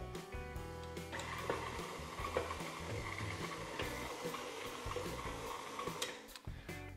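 A stand mixer fitted with a dough hook kneads brioche des rois dough, giving a steady, loud mechanical whir with rhythmic thumps and knocks as the dough slaps around the bowl throughout.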